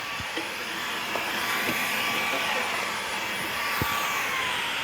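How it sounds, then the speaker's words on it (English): A small Fantech handheld vacuum cleans around 3D printers in a print farm, giving a constant close airy whoosh with faint clicks and bumps as the nozzle moves about. "These little Fantech vacuums allow me to get right in here"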